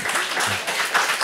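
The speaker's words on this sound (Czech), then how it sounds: "proč je právě potlesk v Radio Café Vinohradská 12" A studio audience at Radio Café Vinohradská 12 applauds, giving a short burst of steady, dense clapping that fills the room and stays at an even level throughout.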